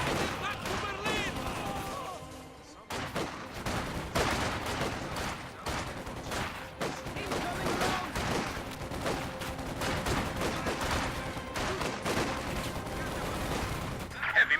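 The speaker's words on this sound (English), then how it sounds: "Contact! Small arms fire!" Small arms fire in a WWII real-time strategy battle, dense crackling gunshots and scattered bursts running throughout under ongoing game noise and voices.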